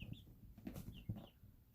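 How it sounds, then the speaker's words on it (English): Faint, high chick peeps come in a few short chirps, a couple close together, over low rustling and soft background noise. "today there's a lot of peeping as they're here on the blanket"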